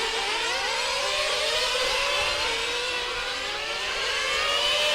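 Large-scale Serpent Cobra GT RC racing cars at the 2015 IFMAR Large Scale Worlds finals whine steadily with small-engine buzz, overlapping pitch sweeps of several cars rising and falling, loud and continuous.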